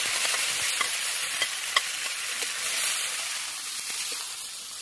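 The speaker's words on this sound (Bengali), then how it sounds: "তো চলুন একটু তেল দিয়ে এটাকে একটু শুকনো শুকনো করে ভেজে ফেলি" Ground ghatkol leaf and shrimp paste fries in oil with a constant bright hiss. Faint stirring ticks sound close by, and no voices are heard.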